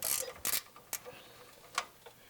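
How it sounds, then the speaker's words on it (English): A gear wrench ratchets in short bursts of clicks while loosening 14mm strut top nuts on a 2007-21 Toyota Tundra during a suspension kit install, the sharp ticks close and fairly quiet with pauses between. "Let's get our strut top nuts loosened up. It's a 14mm. I like using a gear wrench for clearance issues."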